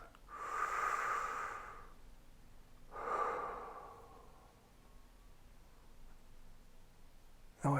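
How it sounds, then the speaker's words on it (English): A slow, deep breath during a calm ASMR relaxation meditation: a long airy inhale, a pause, then a softer breathy exhale, close and quiet over faint background hiss. "Take that nice big deep breath."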